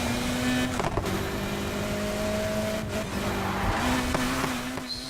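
Race car in Need for Speed Heat accelerates, its engine droning with steady tonal whine and tire squeal under a loud, continuous roar, shifting pitch as it speeds along.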